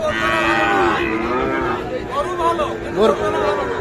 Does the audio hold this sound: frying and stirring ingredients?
no